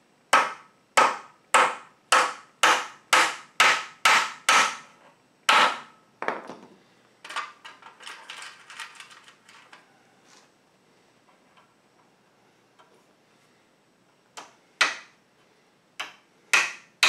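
Sheetrock nails are hammered into spruce lath cross braces: a run of about ten sharp, evenly spaced blows, a pause filled with light handling clatter, then a few more strikes, all close and loud.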